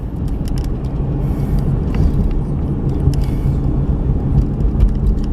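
A 2017 GMC Canyon pickup's V6 engine paired with an 8-speed transmission, heard from inside while driving: a steady, moderately loud low engine and road rumble that holds throughout without any talking.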